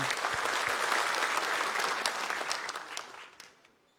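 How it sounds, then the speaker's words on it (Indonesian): Audience applause at a Perindo party inauguration ceremony, a dense, steady wash of many hands clapping that holds for several seconds and then tapers off toward the end. "Boleh tepuk tangannya dulu."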